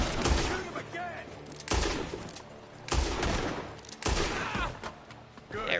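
Gunfire in the Western video game Red Dead Redemption 2, a run of loud, booming shots in several bursts with some reverberating tails, spread across the whole stretch.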